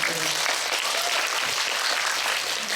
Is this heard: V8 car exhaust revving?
no